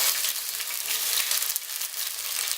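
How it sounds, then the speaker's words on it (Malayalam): Ginger, garlic, green chilli, onion and curry leaves sautéing in hot oil, a steady close, loud crackling sizzle that runs throughout without pause. "നമുക്കിതൊന്ന് വഴറ്റിയെടുക്കാം"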